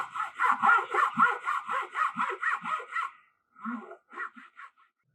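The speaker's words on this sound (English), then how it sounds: "making these cuts, make sure the teeth of the blade is pointing towards the direction that you're cutting, and that you're pushing the cut instead of pulling it" A hand saw cuts through wood for a wooden bass clef model, the blade pushing in about ten steady rhythmic strokes, then a short pause before a few more strokes, close and clear with no talking.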